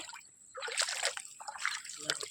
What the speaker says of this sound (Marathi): आणि हा दादा हात धुतोय पाणी पियायच्या जागी.